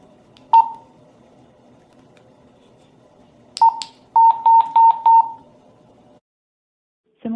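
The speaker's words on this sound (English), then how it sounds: "Once the button is clicked, you will hear a 4-button tone" A public safety radio sounds its acknowledgement tone after the emergency button is pressed: a few scattered single beeps, then a quick run of four sharp, loud electronic beeps in a quiet room.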